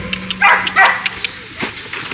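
Excited dogs bark in several bursts at close range on a farm walkway during a cattle move, with people talking between the barks.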